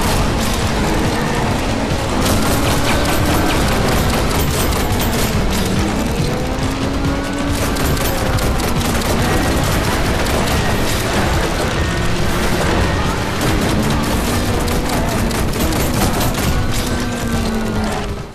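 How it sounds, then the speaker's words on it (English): Dense, continuous VR game action from Runner on Quest 2: rapid gunfire bursts over roaring, revving bike engines during a chase, with tire squeals and booms throughout, loud and relentless with no pauses. "the sounds of their gunfire or engines letting you know to move out of the way"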